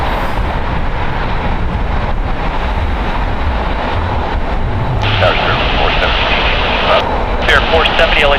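Airbus A320 jet at LAX airport, a loud roaring engine rush with wind buffeting, sustained and close, with brighter hissing layers joining midway.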